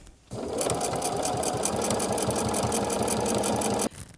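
A domestic sewing machine runs steadily for nearly four seconds, stitching binding onto a quilt. Its rapid, even needle rhythm stays loud and close from start to finish, with no talking.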